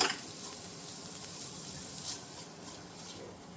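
Khoya roasting in ghee in a kadai, a soft steady sizzle with faint stirring scrapes, fairly quiet and continuous with no talking.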